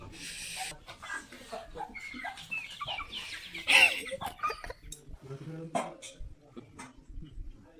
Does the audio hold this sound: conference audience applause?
no